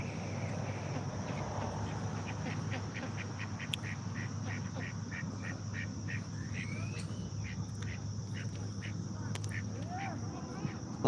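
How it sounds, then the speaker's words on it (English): Repeated soft duck quacks in a regular series over a steady low outdoor hum, with a few sharper calls near the end; no talking. "that is the most beautiful duck right here"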